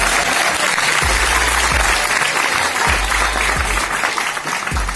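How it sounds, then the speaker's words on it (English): An audience at a Global Game Jam event bursts into loud, close applause, a thick wash of clapping with a few low thumps, sustained evenly for about five seconds without speech. "I think everyone deserves a round of applause."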